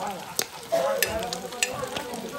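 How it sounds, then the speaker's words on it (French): Onions and cloves hitting a pan of frying smoked pork (boucané) in a Réunion-style civet, with a steady close sizzle broken by a few sharp stirring clatters. "Là, nous allons mettre les oignons avec les clous de girofle."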